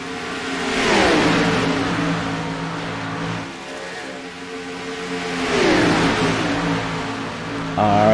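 Race cars in a superspeedway racing video game roar past, engine pitch sweeping up and down as two loud pass-bys build speed, with a sustained engine drone between them and a higher whine entering at the end.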